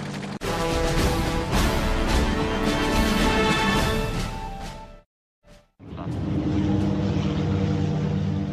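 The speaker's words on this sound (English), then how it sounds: "So Field Marshal von Lieb turned to his dive bombers to sink the enemy warships" WW2 German Luftwaffe dive bomber engines roar loud and continuous, with a droning propeller hum that cuts out abruptly, returns briefly, then resumes at full strength.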